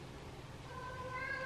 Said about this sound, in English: I can't focus with the constant meowing.